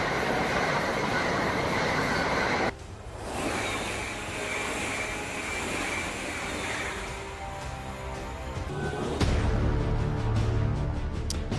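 High-speed train in Europe rushing past, a sustained broadband roar that cuts sharply midway and then surges into a heavy low rumble near the end, loud and close, with no voices.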